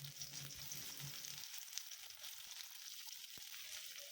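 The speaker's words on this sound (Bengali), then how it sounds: "তেলটা গরম হয়ে গেলে এর মধ্যে আমি দিয়ে দেবো কুচনো পেঁয়াজ।" Chopped onions frying in hot mustard oil for a Bengali chicken skin curry, giving a steady soft sizzle with a low rumbling bubble that fades partway through, and faint scrapes.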